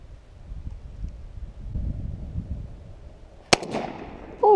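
A gunshot goes off outdoors on a farm, a single sharp crack following a stretch of wind rumble, with the echo trailing off afterward and a voice starting right at the end.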